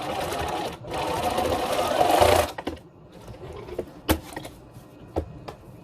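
A sewing machine stitches a fabric face mask with a nautical design, a close, fast mechanical whirr for about two seconds, then stops, followed by quiet handling clicks.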